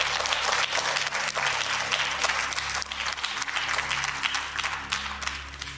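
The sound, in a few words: audience applause for Iskren Lilov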